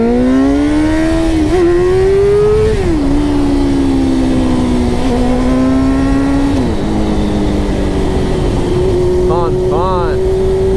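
Suzuki GSX-R 600 sport motorcycle revving hard and accelerating through several gear shifts, a loud, close, rising engine whine that drops and climbs again with each shift, with wind noise throughout.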